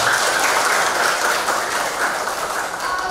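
Students in a classroom clap together in a thick, continuous burst, loud and close, lasting a few seconds without any speech over it.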